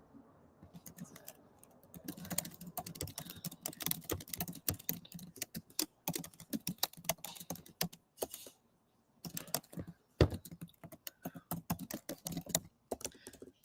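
Rapid, irregular keystrokes on a computer keyboard as a message is typed, close and fairly loud, with brief pauses between bursts and no talking.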